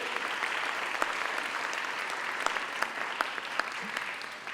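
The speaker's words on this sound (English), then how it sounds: "Can we have a round of applause for them?" Conference audience at a rural strategy and policy finale applauds the AV crew, a steady, dense wash of many hands clapping at even volume with a few sharper claps standing out.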